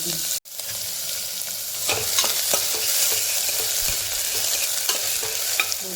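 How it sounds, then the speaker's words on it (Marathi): Onion, chilli, curry leaves and ginger-garlic paste sauté in a hot pan: continuous close sizzling with scraping stir strokes, and one brief sharp knock near the start. "कांदा एक मोठा टाकून घेतलेला कांदा आहे एक चमचा आलेला लसूणची पेस्ट आहे त्याला परतून घेऊ"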